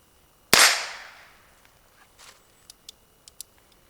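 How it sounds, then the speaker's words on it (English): A single loud revolver shot fires up close, followed a couple of seconds later by several faint, sharp pings of the bullets striking a distant steel target. "I'm going to shoot the rest of my rounds, and then I'm going to show you something on the steel."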